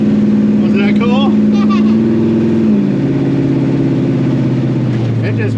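A 1955 Chevy Gasser revs hard as its tires spin at launch, a loud, close engine roar that holds steady and then drops in pitch, with voices talking over it.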